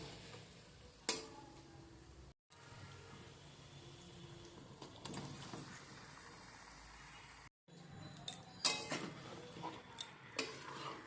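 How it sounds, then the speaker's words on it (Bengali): Marinated chicken being stirred in a pot with onions over medium-high flame for chicken dum biryani, with a spoon scraping and clinking against the metal amid steady sizzling, fairly quiet. "মিডিয়াম টু হাই ফ্লেমে দিয়ে ভালো করে আমি মিশিয়ে নিচ্ছি"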